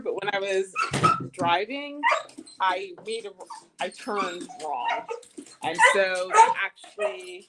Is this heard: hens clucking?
no